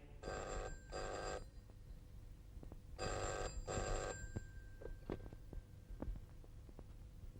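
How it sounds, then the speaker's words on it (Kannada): A telephone rings in a movie scene with two double rings, a pause between them, and a low hum and faint room noise underneath. "ಆ bank chairman Dhanraj justice ಜಗನ್ನಾಥ್ಗೆ phone ಮಾಡಿ ನಾನು ಹೇಳ್ದ ಹಾಗೇ ಹೇಳ್ಬೇಕು."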